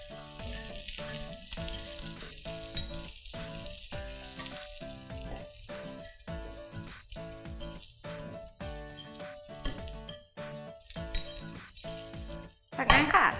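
Garlic and onion stir-frying in a hot pan for a Thai fermented pork and egg dish, a steady close sizzle broken by rhythmic scraping strokes of a spatula, growing louder near the end.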